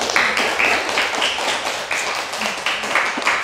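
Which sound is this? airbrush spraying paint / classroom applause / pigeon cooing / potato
classroom applause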